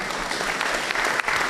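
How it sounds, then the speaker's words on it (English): Audience at a public lecture applauding the panelists, a brief burst of dense, steady clapping from a crowd throughout. "let's give the panelists a round of applause"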